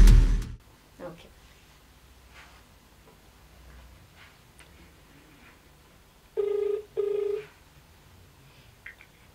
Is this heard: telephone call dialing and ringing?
yes